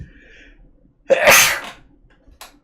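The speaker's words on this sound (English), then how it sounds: "Oh shoot, I'm gonna sneeze." A single sharp human sneeze, close and fairly loud, preceded by a short intake of breath and followed by quiet, with no talking around it.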